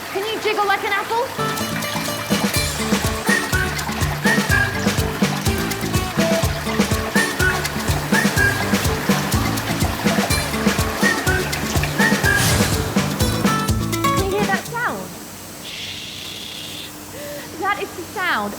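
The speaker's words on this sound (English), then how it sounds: "That is the sound of jets of air blasting water off the apple half." A continuous rushing hiss of air jets blasting water off apple halves on a processing line roars steadily over loud machinery clatter, then thins out near the end.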